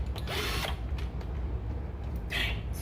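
A drill runs in two short bursts while boring into a Dodge Charger to mount a wicker bill spoiler, each burst rising and falling against a steady background hum.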